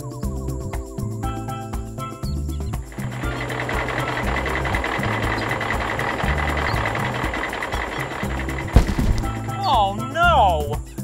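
A cartoon truck arrives with a busy rumbling engine under bouncy music, then sounds a short horn blast near the end, followed by a wobbling squeaky effect.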